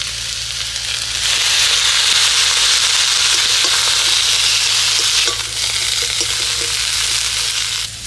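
Loud, steady sizzling fills the clip as chopped eggplant and curled drumstick stems sauté in a pan with turmeric and salt, with a brief dip midway before the frying hiss resumes, occasional stirring scrapes beneath.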